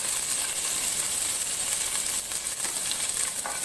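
Green chillies hit hot oil in a pan for Ramadan nombu kanji, a loud, steady broadband sizzle and hiss that continues evenly throughout, with no talking.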